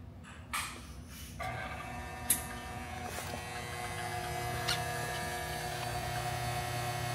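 An Irecom air-conditioning refrigerant oil flushing machine runs steadily for 134a/1234yf systems, giving a constant electric hum with a whining tonal layer that starts a moment in, plus a few sharp clicks, with no one talking.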